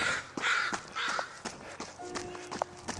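A few hoarse crow caws ring out overhead at a moderate distance, mixed with footsteps and outdoor rustle.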